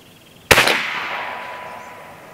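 A Challenger Pro 357 PCP air rifle fires a single Lucky 7 slug, one sharp loud crack followed by a long fading ring and echo.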